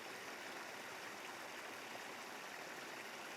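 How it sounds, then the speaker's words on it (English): A small waterfall on the Allt Mathaig stream pours over rocks, a constant close rushing hiss with no voices or breaks. "with the water cascading down to the left hand side"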